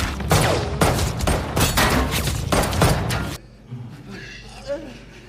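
Rapid bursts of gunfire in a violent scene from the film Night in Paradise, loud and dense for about three seconds before cutting to a quieter room tone with faint movement.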